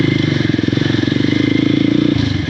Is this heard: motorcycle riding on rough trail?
yes